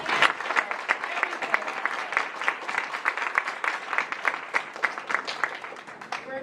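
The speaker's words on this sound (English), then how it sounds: "give our panelists a round of applause" Audience applause for harm reduction panelists at a stigma-focused panel event, steady dense clapping from a modest crowd lasting several seconds at moderate level.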